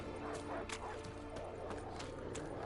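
Dog barking and yipping in The Witcher III video game, a string of short sharp barks over a dense, continuous game soundscape of noise and ambience.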